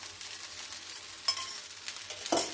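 Oil sizzles around a masala toor dal dosa frying on a hot pan, a short crackling hiss that swells and fades in brief bursts, with a louder spurt near the end.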